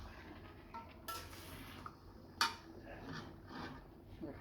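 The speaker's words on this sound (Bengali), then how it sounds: "দেখুন গাইস, ভালোভাবে নেড়ে দিচ্ছি।" Duck meat being stirred in a cooking pot for a spiced bhuna: quiet scraping with a few sharp metallic clinks of the spoon against the pot, close by.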